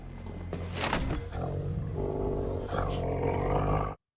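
A dire wolf in a Game of Thrones episode growls and roars with a deep, loud, continuous rumble, close and dramatic over dense show soundtrack, stopping abruptly at the end.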